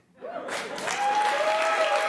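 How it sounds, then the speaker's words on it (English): A studio audience breaks into clapping after a joke, swelling from quiet into a sustained wash of applause, with a voice briefly audible at the start. "Why are you clapping for that?"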